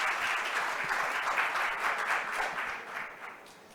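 A conference audience claps after a presentation on a report about jurisdiction, a brief steady round of applause that fades out toward the end.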